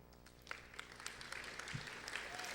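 Audience applause for a student receiving an award at a high school senior awards ceremony, a steady mass of clapping hands with no voices.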